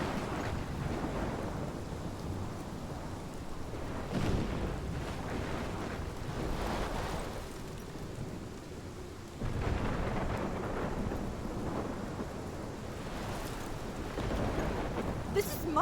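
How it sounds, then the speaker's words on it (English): A video game thunderstorm in Life is Strange brings heavy rain and wind, with deep rolling thunder that swells around the middle and keeps rumbling steadily underneath. "This is my storm."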